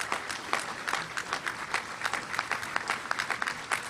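A commencement crowd at a high school graduation breaks into sustained applause, dense overlapping claps holding steady with small swells, moderately loud and without speech.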